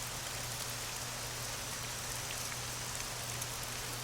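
Steady rainfall from a meditation app patters down continuously, an even hiss of drops with no voices.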